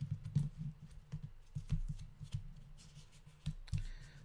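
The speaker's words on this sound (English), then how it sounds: "let's cut the cards here." Tarot cards are cut and shuffled by hand, giving soft, papery riffles and light taps that come in uneven bursts, close up and fairly quiet.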